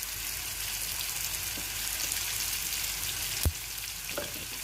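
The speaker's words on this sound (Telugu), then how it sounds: "ఇప్పుడు అల్లం వెల్లుల్లి పేస్ట్ కూడా వేసుకుందాం ఫ్రెండ్స్" Ginger-garlic paste and chilli powder sizzling in hot oil in a pan for a bitter gourd curry, a steady loud hiss throughout with one sharp knock of a utensil near the end.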